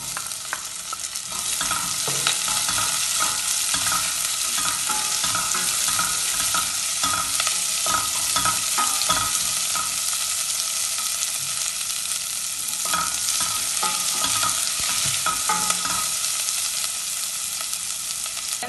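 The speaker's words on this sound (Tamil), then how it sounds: "கொஞ்சம் வதங்கின அப்புறம் நான் இப்போ வெங்காயத்தை போடுறேன்." Chopped onions fry in a hot pan with a continuous close sizzle, broken by occasional scraping stirs. No one speaks.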